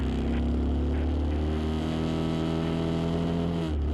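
Car engine revving on a road beside an airport, a loud continuous droning roar with steady low harmonics that shift slightly in pitch before dropping off near the end.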